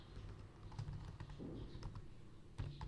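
Typing on a computer keyboard at a Linux terminal, a quick run of soft, close key clicks with an uneven rhythm and one firmer tap near the end, heard alone.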